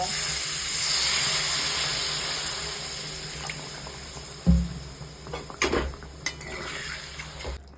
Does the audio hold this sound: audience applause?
no